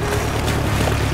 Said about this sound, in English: they hear a noise and look closer to see that Spike has arrived on his boat.